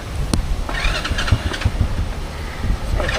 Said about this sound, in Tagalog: Si ate magdadrive ng motor.